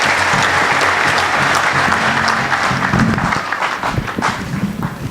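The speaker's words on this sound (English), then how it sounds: "Let us clap for them." A plenary assembly audience gives the technical and assisting team sustained, loud applause, with many hands clapping over a steady low hum. The clapping thins out slightly toward the end.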